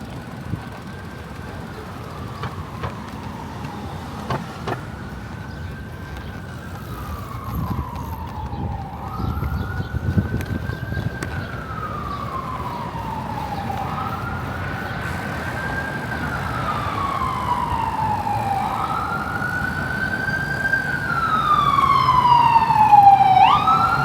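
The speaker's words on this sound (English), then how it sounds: "Another ambulance coming in." A wailing ambulance siren rises and falls repeatedly, growing louder as the ambulance approaches over steady traffic noise near the White House.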